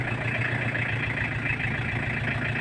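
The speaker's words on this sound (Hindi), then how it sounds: "ये टाटा सूमो है डीजल गाड़ी उठ तो जाएगी तीसरे में ही लेकिन ज़्यादा लोड पड़ रहा" Tata Sumo diesel engine labouring under heavy load in a high gear at low speed, a steady, dense low rumble with a rough, clattery edge, close and continuous throughout, with no talking.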